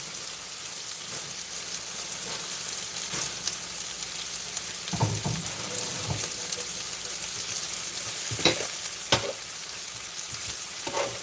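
Squash frying in a pan, a steady crackling sizzle with occasional louder pops and stirring scrapes, close and continuous with no talking.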